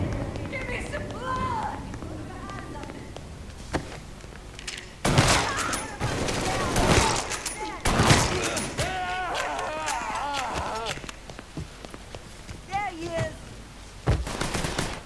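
Bursts of gunfire in the video game Mafia III, several loud volleys and single shots spread across the clip among other game sounds and voices.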